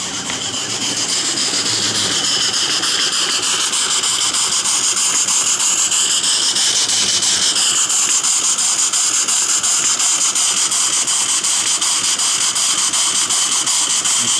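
A homemade steam boiler chuff pot runs at full steam, just over 20 psi, giving a loud continuous hissing roar that holds steady and shifts slightly in tone partway through.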